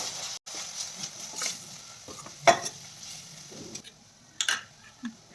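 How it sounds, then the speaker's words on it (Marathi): Biryani masala, coriander powder, turmeric and other spices fry in a pan for veg biryani, giving a faint sizzle broken by several sharp scraping stirs of a spoon. "बिर्याणी मसाला, धना पावडर, हळद आणि मसाले छान आपण तळून घेऊयात।"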